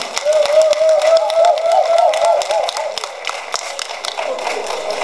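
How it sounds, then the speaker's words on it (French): Crowd applause at a May Day workers' march in the streets, a steady crackle of clapping heard over a sustained voice or chant and open-air noise, loud and continuous throughout. "Applaudissez-vous vous-même"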